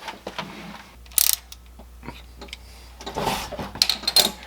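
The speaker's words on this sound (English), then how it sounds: "just going to use my 3/8 inch ratchet, fits right up in that hole, and I'm going to loosen that." A 3/8 inch ratchet loosens the oil drain plug on a 2015 Toyota RAV4 Limited, giving close, irregular clicks and short mechanical bursts over a low hum.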